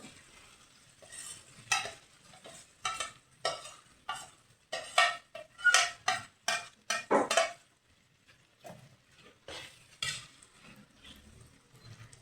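Sautéed corn is stirred in a pan, with a rapid series of close metallic spoon scrapes and clanks in uneven bursts over a faint sizzle, thinning out and pausing toward the end.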